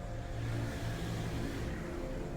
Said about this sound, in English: another motorcycle.